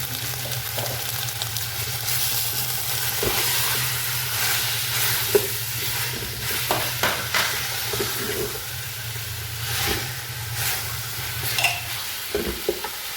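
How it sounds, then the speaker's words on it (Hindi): Chicken pieces frying in a pot, a continuous loud sizzle broken by frequent scraping and clanking stirs, with a low hum beneath. "जी आप देख सकते हैं चिकन हमारा भुन रहा है।"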